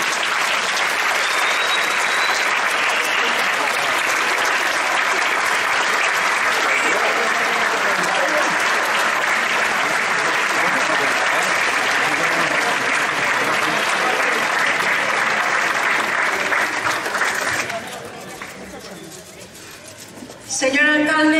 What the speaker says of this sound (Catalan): Un fort aplaudiment per a Piri Soler Casanova.